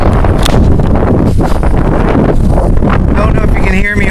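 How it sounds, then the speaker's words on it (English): Strong outdoor wind buffets the microphone continuously, a loud, rumbling roar at a churchyard with occasional rustling, and a person can be heard speaking under it. "Don't know if you can hear me over the wind."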